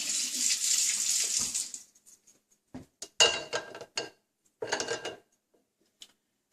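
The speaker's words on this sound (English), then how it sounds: "Pour that out, rinse it off." Running tap water splashes steadily for a couple of seconds while rinsing a Nutribullet blender cup, then stops, followed by a few short clattering knocks and brief rinsing bursts nearby.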